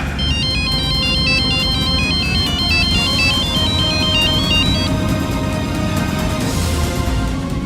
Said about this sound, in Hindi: हम ना जरा अभी गर्जन को फोन लगाते हैं।